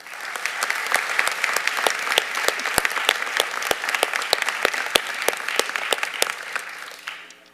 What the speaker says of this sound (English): Let's give a big round of applause for all of the elected officials joining us today.